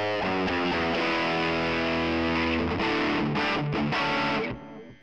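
An electric guitar played through a Yamaha THR10C practice amp on its high-gain Dr. Z amp model, sustained distorted chords ringing, then a few choppy muted hits before fading out, loud and close.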